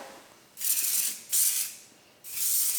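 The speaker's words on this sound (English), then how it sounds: "it's just an aerosol product. You can spray it throughout your ends and mids" Three bursts of aerosol heat protectant spray onto hair hiss close by, each lasting about half a second, with short quiet gaps between them.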